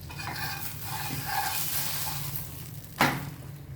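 A mung dal uttapam cooks in oil in a pan with a soft, steady sizzle and low hum, and a single sharp clink near the end.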